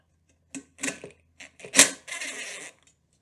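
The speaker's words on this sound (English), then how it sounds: "Just loosen these 2 bolts right here." A T20 Torx driver loosens the spark arrestor bolts on a Stihl backpack blower during a tune-up, making a few short, close metallic clicks and scrapes separated by silence.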